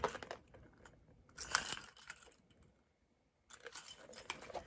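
Keys jangle and clink softly inside a handbag in a few short bursts, with rustling between them and quiet pauses.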